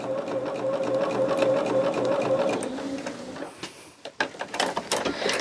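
A sewing machine stitches quilt blocks in a steady close whirring run that stops after about three seconds, followed by clicks and handling noises.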